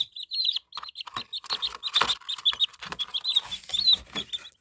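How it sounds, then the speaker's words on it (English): A brood of baby chicks peeps steadily inside a brooder, many high, rapid chirps overlapping close by, punctuated by rustling and scratching in the bedding, with no talk. "meet my new chickens. They're baby chicks all in here"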